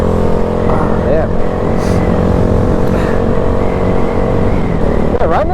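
A 2022 Honda Grom motorcycle holds a loud, steady engine drone while being ridden, with wind rush close over it and slight changes in pitch throughout.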